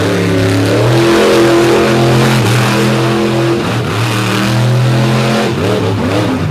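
A race car engine on a dirt track at Brooksville roars loudly and continuously, its pitch rising and falling as it revs and accelerates through the corners, close and without voices.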